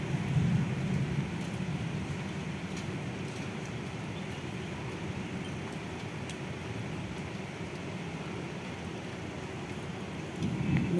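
Steady broadband hiss of rain falling, constant and moderately loud throughout, with a low rumble underneath and no voices.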